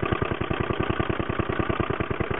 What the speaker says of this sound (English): the engine is running 8 times that speed